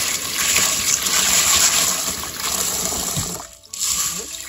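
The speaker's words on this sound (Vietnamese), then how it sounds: "Bây giờ thì mình sẽ đi xả nước." Tap water runs steadily into a bowl to rinse 300 g of red beans in a kitchen, a loud continuous gush and splash with a brief dip near the end.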